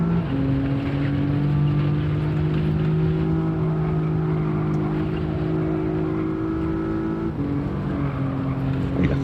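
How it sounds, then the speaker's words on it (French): A race car in Gran Turismo 7 accelerates on the Trial Mountain circuit, with a loud, steady engine drone whose pitch climbs, briefly dips at a gear change, then rises again. "Allez, accélérer tôt ici."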